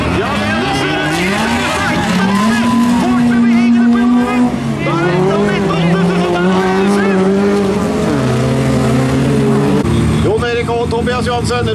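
Autocross race cars lap a dirt track, their engines loud and continuous with pitch rising and falling through gear changes, while an announcer talks over the racing throughout.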